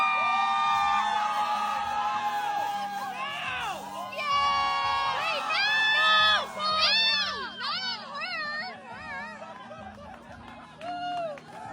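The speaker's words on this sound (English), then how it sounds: "as you can tell by the crowd reaction in the background, people didn't seem to be too impressed with that." A wedding crowd reacts loudly to a groom spraying champagne, with shouting, whoops and excited chatter from many guests rising and falling throughout.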